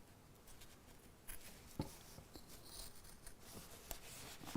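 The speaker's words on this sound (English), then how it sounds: "Let's cut these out." Scissors snip through fabric pieces in quiet, irregular cuts, faint close crunches and rustles spread across several seconds.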